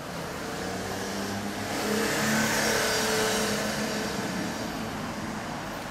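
A 2010 Suzuki Bandit 1250S ABS motorcycle engine revving: a steady mid-pitched engine roar that swells in the middle and eases back, close by with no talk.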